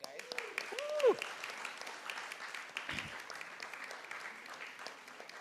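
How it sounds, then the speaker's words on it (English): Audience applause at a panel event on NFTs, greeting a rapper and co-founder as he joins the panel of experts. Steady, fairly quiet clapping runs throughout, with a brief whoop near the start. "Come on, clap for him, guys."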